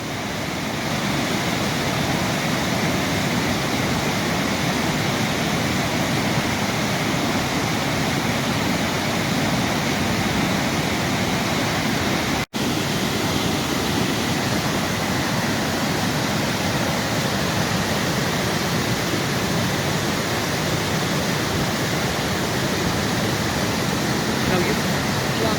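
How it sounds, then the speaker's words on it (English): Fast-flowing snowmelt water rushing outdoors, a steady, loud, unbroken roar of churning current filling the whole stretch. "Look how fast that water is going. My God. That's all from snowmelt."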